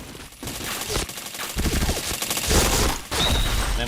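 Video game gunfire heard as a dense, continuous rattle of rapid shots with sharp cracks and booms, loud and close throughout, with no clear talk.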